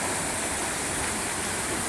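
Swift floodwater of Buffalo Bayou rushes past a flooded backyard in Old Katy during a near-500-year flood, a loud, continuous broadband roar of churning water with no voices.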